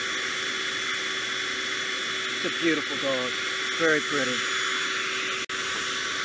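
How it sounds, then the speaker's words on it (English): A loud shop vac runs steadily throughout, a constant broadband whoosh with a steady whine, while a person speaks over it near the middle of the clip. "Stay at heel around the vacuum cleaner that's going. It's loud. It's a shop vac."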